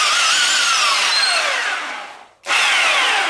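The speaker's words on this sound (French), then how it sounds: "je vais le mettre en morceaux grâce à la scie sabre qui est par terre" McAllister reciprocating saw with an 18 cm blade cuts through a fir tree outdoors, a loud, steady buzzing grind that fades, stops briefly, then roars back at full strength.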